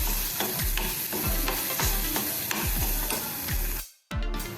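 Potato and ground spices are stirred and fried in a pan, repeated rhythmic scraping strokes over a constant close sizzle, with a short silent gap near the end.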